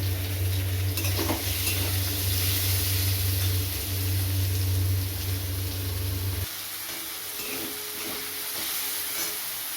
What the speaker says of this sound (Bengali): এটা একটু ভাজা ভেজে নেব